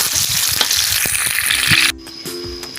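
Garlic frying hard in hot oil gives a loud, dense sizzle that crackles steadily for about two seconds, then drops abruptly to a much quieter background.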